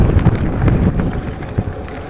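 Wind gusts thump and rumble against the microphone while a Wooken e-bike is ridden through stormy weather, a loud, close, low buffeting that surges in irregular bursts.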